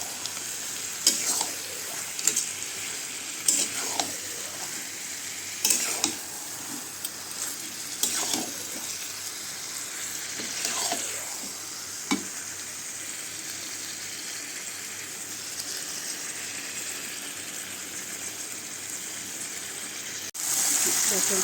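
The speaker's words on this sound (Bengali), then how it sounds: "ভালো করে মশলার সঙ্গে মাংসটা মিশিয়ে নিয়ে কষতে থাকবো যতক্ষণ না তেল ছাড়ছে" Mutton frying in a pan with spices for a mutton curry, a constant hiss of sizzling oil broken by repeated scraping strokes of a spoon stirring the meat, the stirring dropping away in the second half before a brief louder burst at the end.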